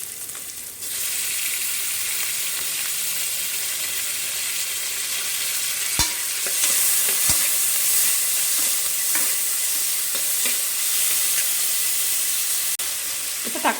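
Chopped tomatoes and onions sizzle and hiss in a hot pan for a Tamil-style country chicken fry, a loud steady frying sound with a few scraping stirs of the spoon breaking through near the middle.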